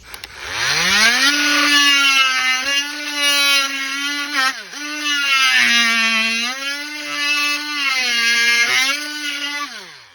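Oscillating saw fitted with a freshly sharpened blade makes a cutting test, a loud continuous buzzing whine that rises and falls in pitch as the blade bites and eases through the work, running steadily for about ten seconds with no talking.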